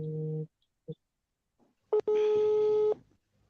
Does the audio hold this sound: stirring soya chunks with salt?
no